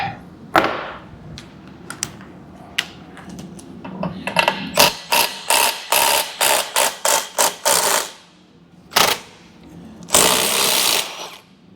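Impact wrench driving a bolt while a vehicle frame and suspension are worked on, a loud close rattling hammer in short repeated bursts, then a couple of longer runs, with no talking.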